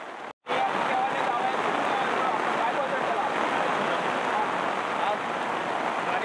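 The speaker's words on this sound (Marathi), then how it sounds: "पाऊस पडत नाही, जोराचा पाऊस लागलेला आहे," Heavy rain pours down steadily on a village during flooding, a dense, loud, unbroken hiss of drops hitting surfaces after a brief gap at the start.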